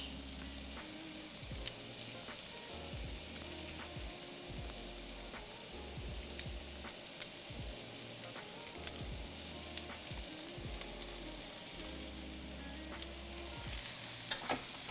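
Shallots and garlic fry in a pan with a constant crackling sizzle, spattering and popping close by over a low, steady hum.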